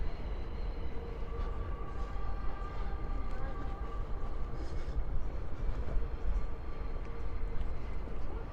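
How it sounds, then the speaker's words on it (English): An F subway train rolls over an elevated grade along Ocean Parkway in Brooklyn, a steady rumbling roar with faint clatter and squeal that holds at moderate distance throughout. "You hear the trains coming over the grade there. That's the F train coming in."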